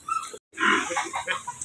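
Pigs in a piggery in Nabua, Camarines Sur, grunt and squeal in two close, loud bursts separated by a brief gap, with rough, throaty oinking filling the rest.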